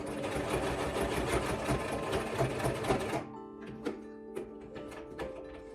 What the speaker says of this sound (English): So I'm going to secure and then sew.